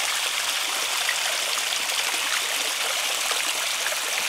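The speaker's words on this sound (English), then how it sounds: "we're going to see some water coming down here" Water trickles down a small natural-looking garden waterfall in summer, making a steady, continuous splashing hiss at moderate distance with no voices.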